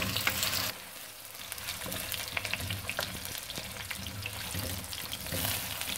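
Taro root (arvi) fries in a pan with spices and yogurt, a steady close sizzle with crackles and occasional stirring scrapes, no talk over it.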